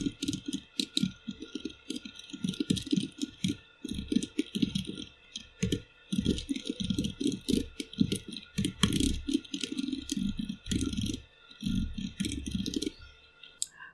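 PHP login code is typed on a computer keyboard, producing close, rapid clicky keystrokes in uneven bursts with brief pauses, with no talk.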